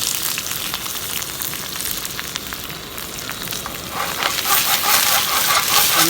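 Dried red chillies, green chillies, garlic and ginger fry in oil for a chicken curry, making a dense, steady sizzle close by that grows louder and more crackly in the final couple of seconds. No one talks.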